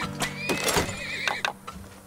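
Game horses in Turmoil neigh in a loud, close, shrill whinny over a soft clatter of hooves, with no voices present.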